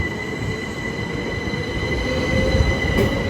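Class 375 electric unit 375825 passing through Ashford International, a steady, loud rumble of wheels on rail with a high metallic squeal running throughout, slightly swelling near the end.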